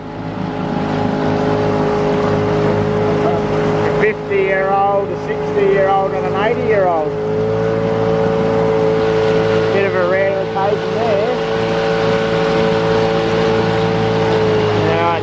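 A motorboat engine drones steadily throughout with a constant low hum on the River Clarence, while three men chat casually over it on a very overcast day.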